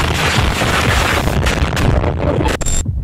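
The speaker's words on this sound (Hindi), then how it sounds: "और फिर हुआ एक बड़ा धमाका" Explosion from bombing in Aleppo, Syria: a loud, sustained rumbling blast roar filling the air for about two and a half seconds, then cutting off sharply into near silence.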